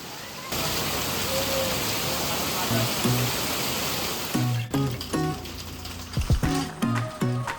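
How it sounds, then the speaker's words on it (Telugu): Heavy rain pours steadily outside a roadside eatery in Hyderabad, a dense hiss near the microphone, with voices and some clattering breaking in over the rain in the later seconds. "ఒకసారి చూడండి వర్షం ఏ రేంజ్ లో పడుతుందో"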